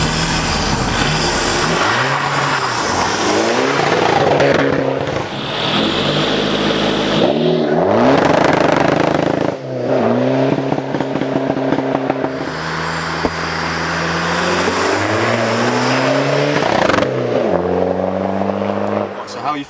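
Skoda Fabia vRS with a stage 1 tune driving past outside, engine note rising and falling through repeated loud revving passes and gear changes, with some talk between runs.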